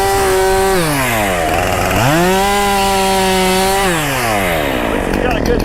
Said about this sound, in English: Still didn't get it fixed on this chainsaw. I'd upgrade that model.